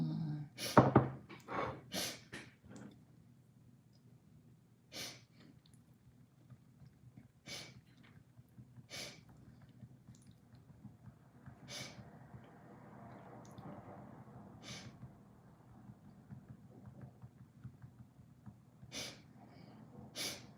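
Repeated sniffling and snorting from a person with bad allergies, close and fairly quiet, arriving as a cluster of quick nasal bursts early on and then spaced single sniffs over a faint background hum.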